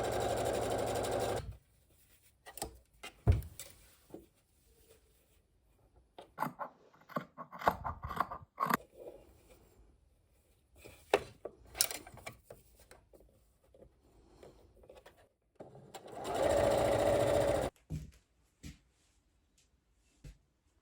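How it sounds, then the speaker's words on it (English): A sewing machine runs a French seam on a robe in two loud sustained bursts, one at the start and one near the end, with scissors snips and fabric rustling in between. "now we can do a French seam and it's all gonna match up"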